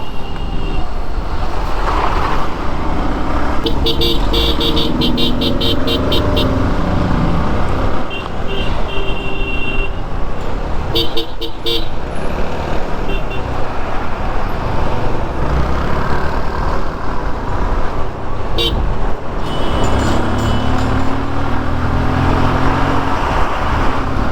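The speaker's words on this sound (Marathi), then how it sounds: "कोकणकर गावी जात आहे तर मानगावला झालेली ट्रॅफिक नक्की पहा" Road traffic jam at Mangaon heard from inside a vehicle: a loud continuous engine and road rumble with repeated horn blasts from nearby vehicles scattered across the scene.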